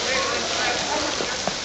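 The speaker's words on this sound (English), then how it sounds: "It's raining." Steady, dense rain falls in an even hiss with scattered drops pattering, in a scene from a 1941 wartime spy thriller.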